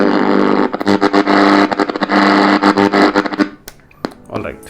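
An iGear Evoke retro-style radio tuned to AM gives off loud, close broadband static in choppy crackling bursts that cut out near the end, with someone speaking over it.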